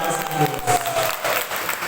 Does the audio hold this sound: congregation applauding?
yes